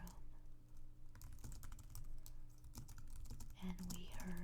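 Steady keyboard typing on a computer keyboard, close and soft, with rapid irregular key clicks running throughout and a few louder keystrokes near the end, no voice.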